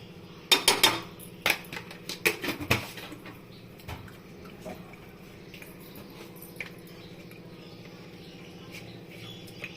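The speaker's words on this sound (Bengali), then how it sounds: "এই চামচ দিয়ে আমি 1 চামচ নুন দেব" A spoon clinks against a pot while adding salt to dal, with a quick cluster of bright metallic taps near the start, then a quiet stretch with faint clatter.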